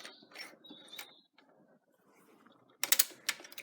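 A sewing machine stitching along a fabric bag strap runs in short, quiet mechanical bursts with soft ticking and whirring, pausing briefly between runs before a louder final burst.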